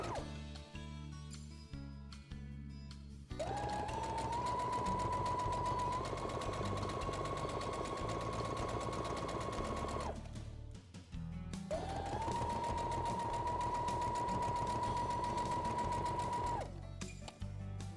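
An electric sewing machine stitches fabric for a cloth diaper holder in two long, steady whirring runs with a short pause between, close and clear, preceded by brief clicks of adjusting the presser foot.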